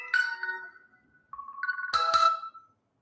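A mobile phone ringtone goes off during a chemistry lecture, a short melodic tone sequence that stops, then resumes with a brighter chiming burst before cutting off, fairly loud and alone.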